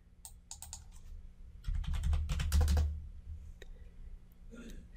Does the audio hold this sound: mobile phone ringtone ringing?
no